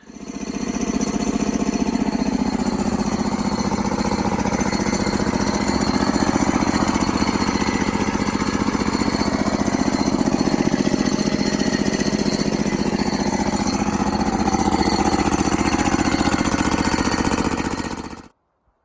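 A sawmill blade cuts steadily through a cedar log. Its motor drone is loud and unbroken for about eighteen seconds, then stops abruptly.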